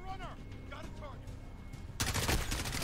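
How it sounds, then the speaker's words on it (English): Gunfire in the Call of Duty Modern Warfare campaign crackles as a dense burst of rapid shots in the last second, after a stretch of game sounds and voices. "finally got to shoot someone."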